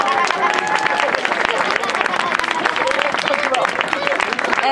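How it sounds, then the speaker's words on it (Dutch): A crowd applauds steadily, many hands clapping in a dense, sustained burst with some voices mixed in. "Applaus zou ik zeggen."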